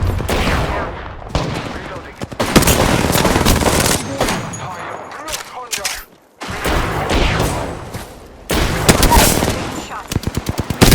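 Rapid automatic gunfire and scattered single shots crackle through a video game battle, loud bursts in quick succession with brief lulls between volleys and a few voices heard mixed in.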